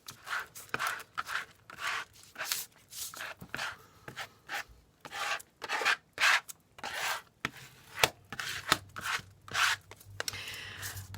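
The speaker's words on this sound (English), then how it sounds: "And I am going to scrape like a crazy person." Glitter paint scraped across a mixed media artwork, a series of quick, rough rasping strokes in an uneven rhythm, close and fairly quiet with brief pauses between them.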